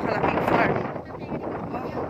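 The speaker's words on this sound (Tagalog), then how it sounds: "Ganda dito guys kasi ang lakas ng hangin." Heavy wind buffets the microphone in a continuous roar on a large, open 100-hectare farm, with a voice faintly talking underneath.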